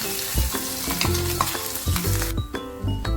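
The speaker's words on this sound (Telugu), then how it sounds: "ఇప్పుడు ఇందాక మనం మిక్సీ పెట్టుకున్న పేస్ట్ అంతా దీంట్లో వేసుకొని తాలింపు వేసుకోవాలి." A ground cucumber chutney paste sizzling loudly as it hits hot tempering oil in a pan, a dense close crackle with a stirring scrape.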